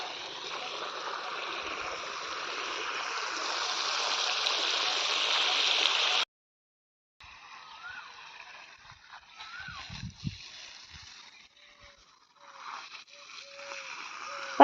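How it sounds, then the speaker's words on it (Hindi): Water pours into a freshly dug foundation trench beside wet soil at a house boundary-wall site, a steady rushing splash that cuts off briefly, then returns as softer sloshing and trickling. "पानी बह रहा है।"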